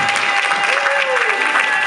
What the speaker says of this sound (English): Can we have another round of applause for these wonderful models?